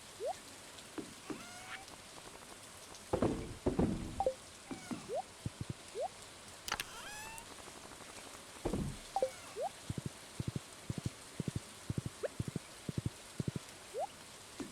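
Rain falling outside, heard as scattered irregular drips and pattering drops striking a surface, some sharper and closer, over a quiet steady background hiss.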